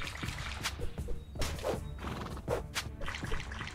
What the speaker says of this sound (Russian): Конь у нас тоже атакует.